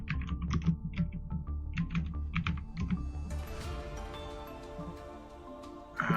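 Computer keyboard typing, a quick run of crisp close key clicks in irregular bursts, giving way to a steadier electronic game tone from Yu-Gi-Oh! Master Duel.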